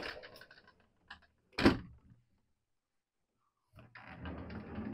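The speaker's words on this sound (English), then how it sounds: "He's got a big door, two doors that pull behind each other." Sliding doors on a 2007 American Eagle 45D motorhome, two panels that pull behind each other, give a single sharp thunk near the middle. Lighter rattles come before it, and a broader rustling movement follows after a silent gap.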